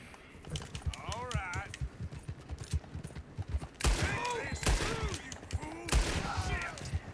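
Gunshots in Red Dead Redemption 2 ring out among horse hoofbeats and game sounds, with several sharp reports and echoing bursts while someone talks over them.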